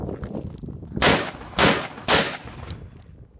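Three sharp, loud gunshots from a 5.56 XM193 rifle firing 55 grain Hornady VMAX rounds during interior wall penetration testing, evenly spaced about half a second apart with brief decaying echoes.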